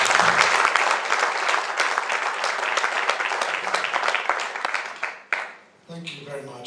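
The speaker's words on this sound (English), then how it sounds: "can we applaud properly?" Audience applause at a conference session on sexual violence against men and boys in conflict, loud dense clapping that runs strongly for about five seconds, then drops off abruptly as a voice begins speaking.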